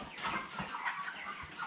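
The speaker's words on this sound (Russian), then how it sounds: "Так, и давай петуха схватим." A 40-day-old Cobb 500 broiler rooster gives quick, agitated clucks while being caught, a close run of short calls over about two seconds.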